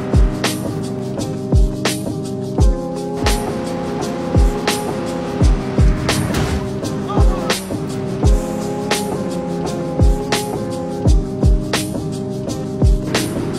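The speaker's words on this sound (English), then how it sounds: "Jumping out of moving cars in different video games." Vehicle driving in the video game Watch Dogs 2: a sustained engine tone with evenly spaced heavy thuds recurring every second or so, no speech.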